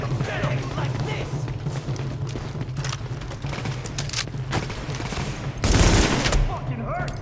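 Rapid gunfire bursts from The Division, the cover-based shooter game, crackle steadily under a voice, with one louder, heavier blast near the end.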